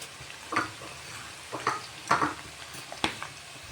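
Cumin seeds sizzling in hot oil while being stirred, a low crackling fry under four or five sharp scraping strokes of a spoon in the pan, close and fairly quiet.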